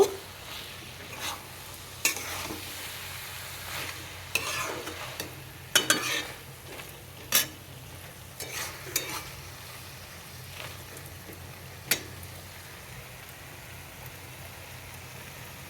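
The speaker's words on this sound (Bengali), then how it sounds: "আর এদিকে সজনে ফুলের বড়া হচ্ছে।" Drumstick flower fritters frying in a pan of refined oil, giving a quiet, steady sizzle broken by scattered sharp clicks and scrapes of stirring, with no voices.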